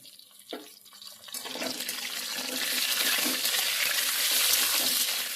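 A few quiet clatters, then a loud, steady hiss of potato pieces frying in oil swells up and keeps going strong.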